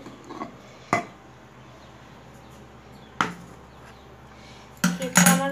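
Hot cake tin lifted out of a pressure cooker with tongs: a few sharp metallic clanks spaced apart in a quiet kitchen, ending in a cluster of scraping, rattling metal knocks.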